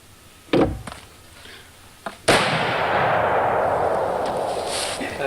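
A single loud rifle gunshot fired at about 375 yards, a sharp crack followed by a long rolling echo that fades slowly, preceded by a few quieter clicks and handling sounds.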